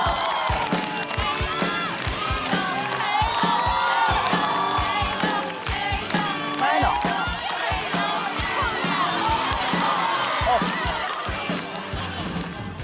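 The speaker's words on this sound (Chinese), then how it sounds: "掌声有请黑灯。" A stand-up comedy show audience bursts into loud, continuous applause with cheering and whoops, a dense crowd roar that holds steady for the whole stretch as one comedian exits and the next is welcomed on stage.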